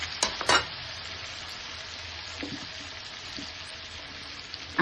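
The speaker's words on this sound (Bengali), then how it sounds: "এবার একটু নেড়ে চেড়ে দিচ্ছি ঢাকনাটা সরিয়ে" Bengali-style mutton fries in a kadai as it is stirred after the lid comes off, a few sharp metallic clanks at first and then a steady, moderately quiet sizzle.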